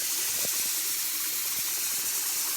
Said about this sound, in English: water running out of the sink, and I have a pot in the sink